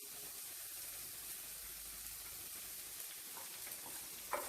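Snake gourd sizzling as it fries with reddish-browned onions in a pan, giving a steady, close hiss with light stirring scrapes and a small clatter near the end, no voices.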